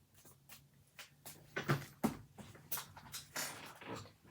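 A crunchy, noisy Hanson Roberts tarot deck is shuffled by hand, with a quick series of soft riffling snaps and papery rustles, close and fairly quiet, with no talking.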